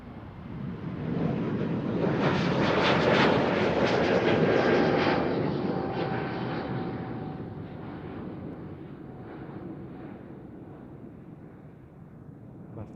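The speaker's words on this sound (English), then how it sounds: "Embraer taking off in the background." An Embraer jet takes off at Amsterdam Schiphol, its engine roar swelling to a broad peak within a few seconds and then slowly fading, fairly distant, with faint wind noise and no talking.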